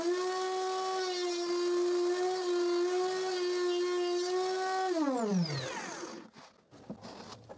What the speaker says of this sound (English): I route the other side of one tail.